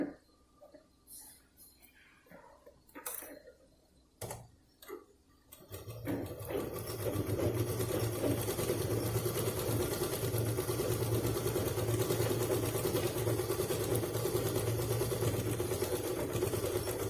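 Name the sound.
sewing machine stitching purse lining cloth over sponge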